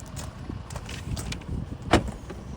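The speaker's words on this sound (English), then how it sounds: "Power tailgate." Power tailgate on a Volvo XC60 2.4 D4 SE Lux AWD estate, a faint motor hum and soft mechanical clicks with a brief louder thunk near the end, quiet and close.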